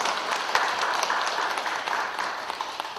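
Congregation clapping in praise during a Sunday church worship service, a soft, steady wash of many hands with a few sharper claps standing out.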